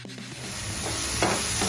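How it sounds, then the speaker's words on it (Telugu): Masala paste frying in oil in a pan for a potato buttermilk curry: a steady, close sizzle with a soft scrape of stirring partway through. "ఈ పేస్ట్ ఆయిల్ పైకి వెళ్ళే వరకు మనం వేయించుకోవాలి"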